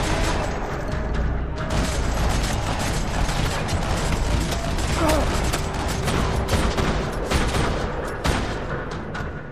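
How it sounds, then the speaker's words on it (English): Sustained gunfire rattles through a parking lot in the video game Max Payne 3, dense overlapping bursts and single shots with mechanical clatter, loud and continuous throughout. "Another parking lot rattling with gunfire."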